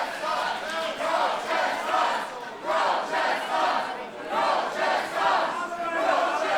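A large wrestling crowd at a tag team match chants and cheers in loud rhythmic waves, a rising and falling roar of many voices filling the arena.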